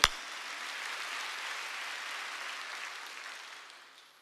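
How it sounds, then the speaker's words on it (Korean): A church congregation claps together after a preacher's call, a steady wash of hand claps that starts sharply and fades gradually over a few seconds, with no voices over it. "박수. 대쫓아야 돼요."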